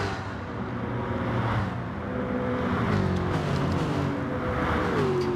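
Race cars in a racing video game roar steadily down a long straight in slipstream, layered engine tones rising and shifting pitch continuously and loudly throughout.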